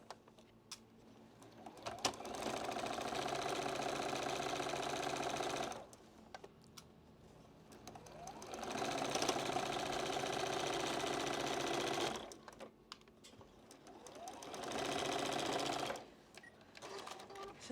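A sewing machine stitches a quilt block in three sustained runs, each a steady whirring buzz lasting several seconds, separated by short pauses with soft handling clicks, close and fairly quiet.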